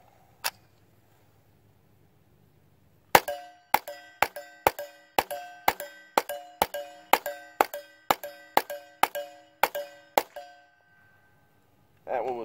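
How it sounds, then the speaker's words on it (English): A rifle fires CCI .22 short rounds, one early shot followed by a quick, regular string of about fourteen sharp, ringing cracks with metallic clangs, then silence before a brief final noise. "So now I've got this thing loaded up with some CCI 22 shorts, and I'm going to plink around with it."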